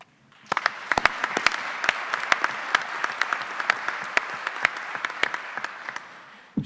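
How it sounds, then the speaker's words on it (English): An audience at a summit applauds the panelists with a round of scattered, sharp individual claps over a softer wash of clapping. It holds fairly steady for several seconds and then fades out. "let's give a great round of applause to all of the panelists that have been on our program today"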